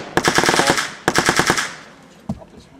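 Rifles fired from a firing step crack out in two rapid, loud bursts of closely spaced shots, followed by a single fainter report after a short gap.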